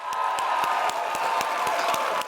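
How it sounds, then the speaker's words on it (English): A motivational-talk audience claps in a steady, sustained round with cheering crowd noise underneath, individual claps pulsing rhythmically at moderate loudness. "All right, clap it up."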